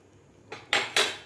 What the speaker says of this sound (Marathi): यामध्ये घालायचे आहेत आपल्याला आता ड्रायफ्रूट